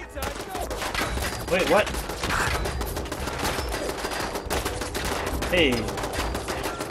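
Rapid bursts of gunfire in the post-apocalyptic game Fallout 4, loud and dense through most of the stretch, with a voice briefly speaking over the shooting.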